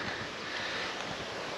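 Steady wind blows along the Azov Sea shore near Yeysk, a continuous broadband rush with faint surf underneath and no voices.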